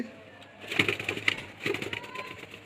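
An Andhra pigeon cooing softly nearby, a few brief muffled coos with faint rustling between them in an otherwise quiet setting.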